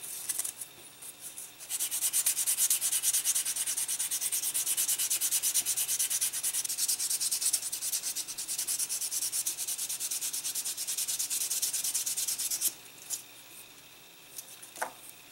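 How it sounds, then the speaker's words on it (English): Soft sponge sanding hard putty on a King Ghidorah model kit, a steady close scratchy rubbing that runs continuously for about eleven seconds, with quieter starts and pauses at either end and no talk. "let's go after this with the softer sponge"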